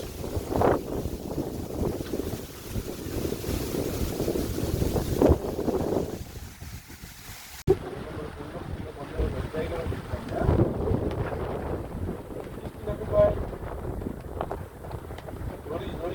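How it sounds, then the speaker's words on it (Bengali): Strong wind gusts during a rainy-day storm in a village, buffeting loudly and unevenly against the microphone while people talk faintly underneath. "কি পরিমাণ বাতাস"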